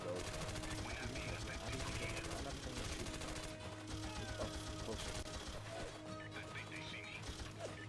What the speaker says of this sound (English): Gunshots all over the place.